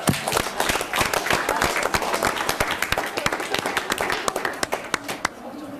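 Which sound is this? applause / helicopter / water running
applause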